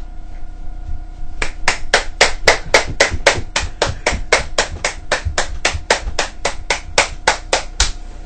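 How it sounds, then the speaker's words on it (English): Steady, evenly spaced claps from a small group, two guests being welcomed, start after a second and keep a fast regular beat to the end of the clip. "Let's give them a round of applause."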